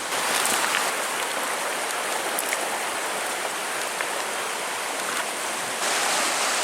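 A swollen mountain stream rushes steadily nearby, a dense, continuous broadband roar of water that stays loud and even throughout with no voices.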